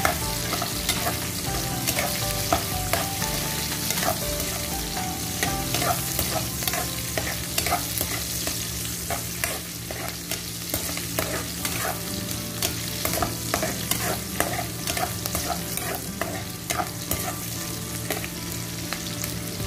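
Onions sizzle steadily in a hot pan while a spatula stirs and scrapes them in quick irregular taps, for a beef liver stir fry, close and continuous, and no talking.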